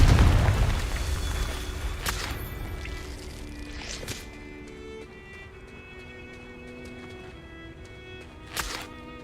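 A Confringo explosive spell cast in a video game, a heavy boom at the start that rolls off into a long decaying rumble, followed by a few sharp cracks and a final burst near the end.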